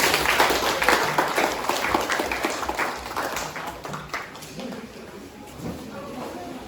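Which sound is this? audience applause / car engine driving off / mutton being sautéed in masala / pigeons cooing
audience applause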